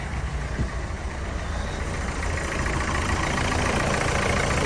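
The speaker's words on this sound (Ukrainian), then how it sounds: "Рівненько робить, красиво працює, не трусить" A diesel engine idles steadily up close, a smooth, even rumble with no talking.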